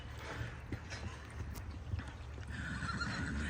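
A horse neighs and whinnies at moderate distance with soft hoof clops, a few short calls over a quiet outdoor background.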